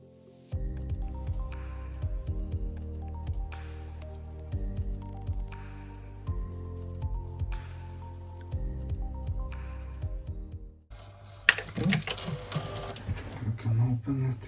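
Sony TC-K950ES cassette deck running in play mode with no tape loaded, a steady mechanical hum and whir with rhythmic clicking, then a louder burst of rustling and scraping as the pinch roller is cleaned.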